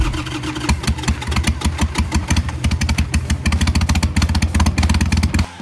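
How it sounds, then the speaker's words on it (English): A Harley-Davidson Sportster 883 Iron motorcycle engine runs close and loud, starting up and settling into a lumpy, uneven V-twin idle with rhythmic pulsing throbs, alone without voices. "Number 4, Harley-Davidson Sportster"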